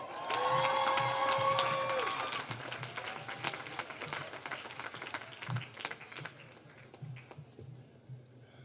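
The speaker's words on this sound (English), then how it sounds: "So I appreciate your applause, because that's as much as I'm getting" An audience at a university commencement claps and cheers, with whistles early on. The applause is strongest at the start and then thins into scattered, distant claps.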